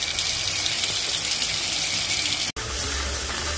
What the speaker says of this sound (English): All we need to do is dump it in some vinegar and some water with some lime.